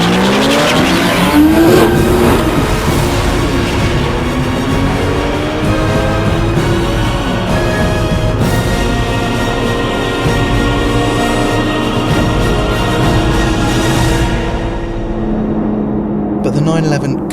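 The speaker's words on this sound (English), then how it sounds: "One proper burnout, a few more revs for the launch, and maybe it could finally overhaul the Carrera." A 2013 Porsche Boxster S does a burnout and launches down a drag strip, its engine roaring loud and steady with tire squeal and rising revs over several seconds, with a voice speaking over it.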